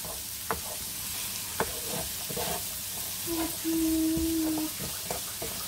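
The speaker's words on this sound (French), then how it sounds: "Donc on va faire revenir tout ça pendant 3 minutes." Pâté chinois filling sautéing in a pan, a continuous close sizzle with scattered scraping and stirring knocks, plus a brief tonal squeak partway through.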